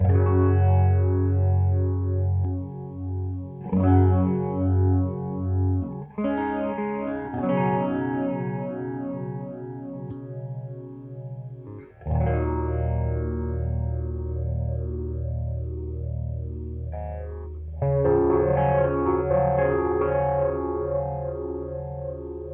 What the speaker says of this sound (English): the feedback control can give you much more sort of accentuated phasing tones as well